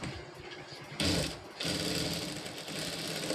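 A sewing machine runs steadily, sewing a topstitch around a seam on the front part of a garment, with one short pause in the middle of the run.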